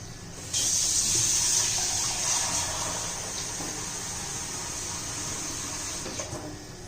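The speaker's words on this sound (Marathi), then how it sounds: "त्यात पाणी घालून घेऊ" Water pours in a steady, close stream into a small pressure cooker for several seconds, a continuous splashing gush that hardly changes before tapering slightly at the end.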